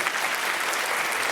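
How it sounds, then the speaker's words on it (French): Audience applause on a French television show, a dense, steady wash of clapping from a studio crowd, loud and continuous for the whole moment. "Je vous demande un tonnerre d'applaudissements tout de suite, messieurs, dames, pour Véronique."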